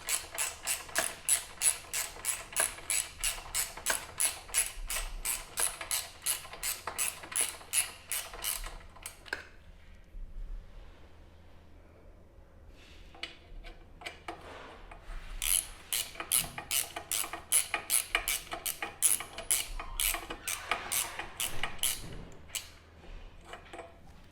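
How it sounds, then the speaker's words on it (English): A ratchet tightens two Torx bolts on crash bars of a Yamaha XT1200 Super Tenere motorcycle, giving rapid, close, rasping clicks in long bursts separated by a quiet pause. "I will begin tightening the 2 Torx bolts."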